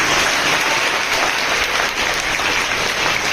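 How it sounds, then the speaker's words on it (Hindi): Dense, steady applause from an audience at a school felicitation function honouring the top-scoring student, continuous and loud throughout with no voices over it. "तो तालियां नहीं बजाएं।"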